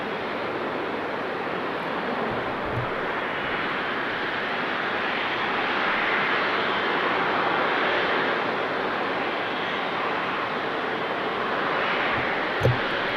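A Boeing 777-300 airliner departs from Amsterdam Schiphol Airport, its broad jet engine roar swelling steadily and holding at a distance for the whole stretch, with no voices.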